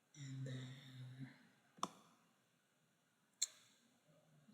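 Computer mouse clicks while closing a ticket in a support-ticket lab: two sharp, isolated clicks about a second and a half apart, faint against a quiet background, with a brief murmur of voice beforehand.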